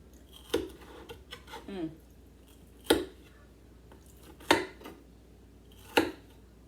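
Food is cut in a home kitchen with four sharp, evenly spaced cutting snaps against a quiet background, with softer handling noises and brief talk between them.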